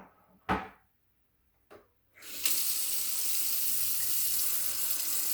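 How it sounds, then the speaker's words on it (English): A couple of soft knocks come first, then a kitchen tap opens and water runs steadily over rice, close and hissing without pause, with no one speaking. "going to give it a good rinse to rinse off most of the starch"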